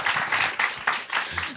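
An audience in a comedy hall breaks into bursts of applause, several short swells of clapping with a voice faint underneath.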